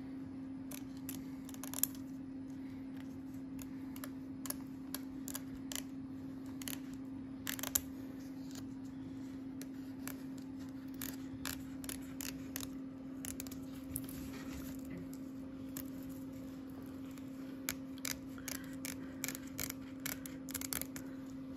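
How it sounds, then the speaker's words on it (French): Scissors trim excess tulle fabric close to mini zigzag machine stitching, a quiet series of small, crisp snips at an irregular pace over a steady low hum. "Nous allons maintenant découper l'excédent de tulle à ras du mini zigzag."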